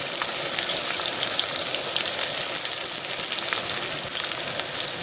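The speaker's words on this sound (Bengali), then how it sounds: "পেঁয়াজটা দিয়ে দিলাম। পেঁয়াজটা দেওয়ার পর ভালো করে ভেজে নেব।" Thinly sliced onions and bay leaves fry in hot oil, giving a continuous, even crackling sizzle with fine popping throughout, fairly close and uninterrupted by voices.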